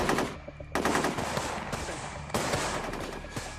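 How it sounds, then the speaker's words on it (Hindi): Dense film gunfire during counter firing at an army camp: rapid automatic bursts and sharp shots crackle continuously at close range, with a brief lull before heavy firing resumes. "मेजर अवस्थी की टीम काउंटर फायरिंग कर रही है"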